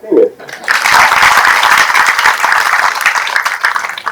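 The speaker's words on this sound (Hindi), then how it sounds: "तालियां बनती है" An audience in a hall at a Hindi Pakhwada event in Bhopal breaks into loud, dense applause that starts abruptly and keeps going steadily for several seconds, close and full.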